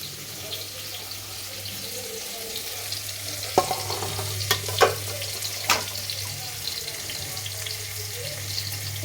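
Cumin, onions and green chillies fry in oil for a galijeru dal curry, a steady low sizzle with a few sharp scraping stirs near the middle.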